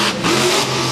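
Monster truck engine revving hard during a freestyle donut, a loud, dense, continuous roar held for a short moment with no talking.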